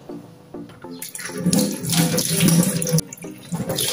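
A tap runs onto vegetables being washed in a kitchen sink, including tomatoes and potatoes, giving a close, steady splashing gush that swells and dips as the produce moves under the stream.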